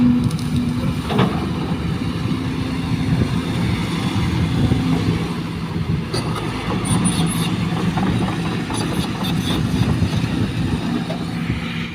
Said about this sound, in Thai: มีรถไถคูโบต้าวิ่งผ่านครับ